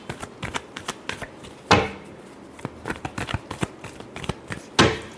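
A deck of tarot cards is shuffled for a love reading, giving close, crisp riffling bursts with soft flicks and taps between them and two louder riffles. No one speaks.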